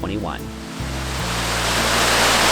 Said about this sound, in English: you're rewarded with 2 amazing waterfalls. The one behind me, and then the one over just by the mill.